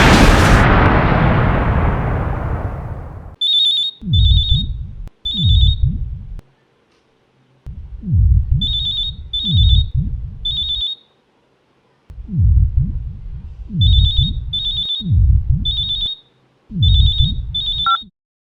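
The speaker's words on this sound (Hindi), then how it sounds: "उस दिन जब फ़ोन की घंटी बजी, मेरी तो हार्ट बीट बढ़ गई।" A telephone rings in a horror drama in repeated double rings separated by short silences. Each ring comes with a deep, booming dramatic hit, and a loud crash opens the sequence.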